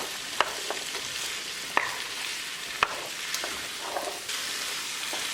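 Kabocha pumpkin pieces frying with masala in a pan, stirred steadily: a constant sizzle broken by several sharp scrapes and clacks of the spoon against the pan, close and fairly loud.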